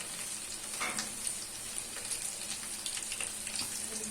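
Garlic sizzles and crackles in hot oil, a dense steady frying hiss with scattered pops and occasional stirring sounds, close and alone.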